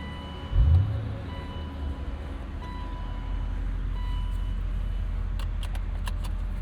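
A 2003 BMW Z8 Alpina V8 roadster starts on the road with a short, deep cranking burst, then settles into a steady low idle rumble that carries on to the end, with no talking.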